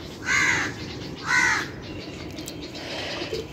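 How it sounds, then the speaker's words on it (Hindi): Crows caw outdoors in the early morning: two loud, harsh calls close together near the start, then fainter caws over a quiet ambient background. "कौवे बोल रहे हैं आज यहाँ पर"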